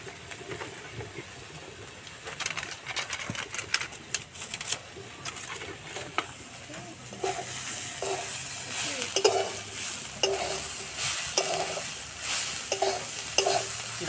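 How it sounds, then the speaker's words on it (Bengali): Carrot, potato and soybean chunks fry in a pan with a steady hiss and scattered stirring scrapes. Faint background noise sits underneath, and there is no talk. "গাজর আলু সয়াবিন খুব ভালোভাবে ভাজা হয়ে গেছে"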